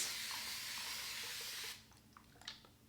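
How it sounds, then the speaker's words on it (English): A long, loud hiss of a spray bottle misting water onto hair runs unbroken, then stops, leaving faint rustling and small handling noises. "So I'm just gonna take my spray bottle just so I can wet my hair."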